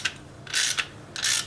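A clutch spring compressor tool is worked loose from a Vespa PX clutch: a few short metallic ratcheting, scraping clicks in separate bursts, close and fairly quiet, with no voices.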